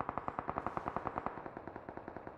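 Rapid automatic gunfire in the mobile shooter game BGMI: a quick run of about fifteen evenly spaced shots, fairly faint and slightly echoing, with no talking.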